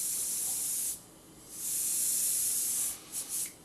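An airbrush sprays paint in hissing bursts: a first spray of about a second, a pause, a longer steady burst, then two quick short puffs, close and bright.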